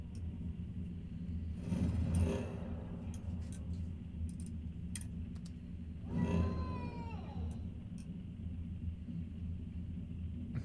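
Indoors, a cat gives two drawn-out meows several seconds apart over a low rumbling background with scattered faint ticks.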